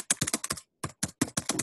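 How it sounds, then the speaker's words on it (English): Fast, close computer keyboard typing, a dense run of crisp keystrokes that stops briefly and then resumes, heard during an online meeting. "Somebody is typing."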